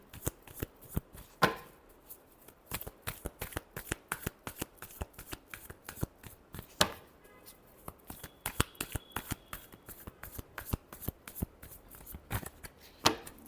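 A deck of tarot cards is shuffled by hand in quick riffling bursts and sharp snaps, close and crisp, with brief pauses between runs and no voices.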